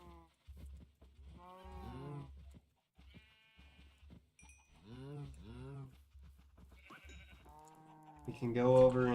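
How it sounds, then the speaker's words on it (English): Minecraft farm animals: cows mooing and sheep bleating in short repeated calls, close and clear against a faint low background, the bleats and moos overlapping and growing louder at the end. "Let's go breed the cows."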